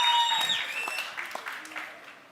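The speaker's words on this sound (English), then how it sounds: "Definitely deserves a massive round of applause." Audience applause at a live business event, a short burst of clapping that starts strong and tapers off over a couple of seconds with tonal stage sounds mixed in.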